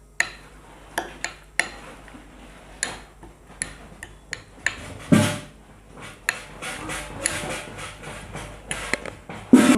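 A spoon mixes homemade yogurt and sugar in a bowl, giving sparse, irregular clinks and taps against the sides with soft scraping between them, close and fairly quiet.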